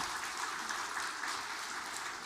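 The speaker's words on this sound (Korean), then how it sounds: "우리 시온 찬양대를 위해서도 박수 한번 해주시겠습니다" A church congregation at a Sunday worship service claps for the Zion choir, a brief, even wash of applause at moderate distance with no voices.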